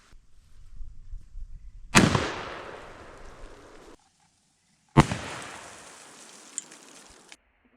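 Two loud 12 gauge shotgun blasts loaded with Remington number 8 shot, fired outdoors at gingerbread houses, each crack followed by a long hissing tail of falling debris.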